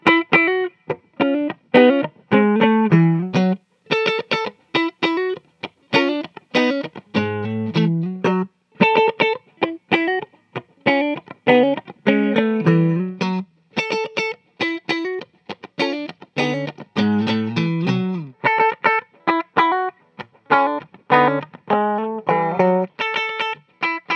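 A red burst ESP LTD EC-256 electric guitar plays through distortion, with choppy riffs, chords and single-note lines in bursts broken by short pauses, loud and up close with no voice.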